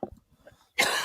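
A single sharp, close cough bursts out after a moment of faint breathing and quiet noise, loud and abrupt in a casual podcast setting.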